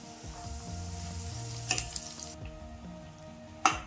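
A tempering of spices fries in a small pan for a tamarind-free horse gram soup, giving a soft continuous sizzle with a tonal hum beneath and a couple of sharp metallic clinks.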